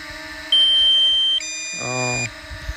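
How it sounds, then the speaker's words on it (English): A DJI Mini 2 drone controller sounds a warning for low battery: a steady high beep, then a stacked, buzzier tone that repeats rapidly for about half a second, all close and fairly loud over faint room noise. "Oh, it's beeping at me."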